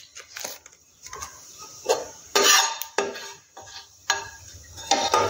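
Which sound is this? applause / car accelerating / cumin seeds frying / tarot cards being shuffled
cumin seeds frying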